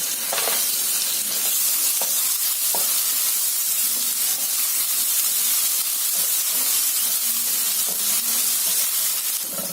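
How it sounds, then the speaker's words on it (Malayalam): Ginger sizzles in hot oil in a pan for dragon chicken, a loud, constant hissing fry with occasional stirring clicks and scrapes. "ഇഞ്ചി ബ്രൗൺ കളർ ആയിട്ടുണ്ട്."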